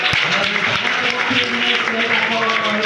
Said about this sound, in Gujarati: આપણે સરપંચશ્રી ગ્રુપ ગ્રામ પંચાયત મહાલપાડાને જોરદાર તાળીઓથી વધાવી લઈએ છીએ.